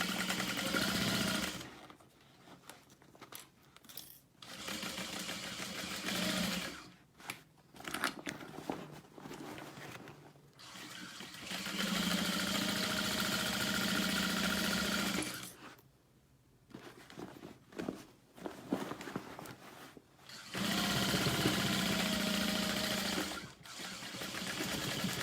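Sewing machine running in long bursts as it stitches through a vinyl tote bag, steady whirring runs separated by brief pauses, close and fairly loud with no talking.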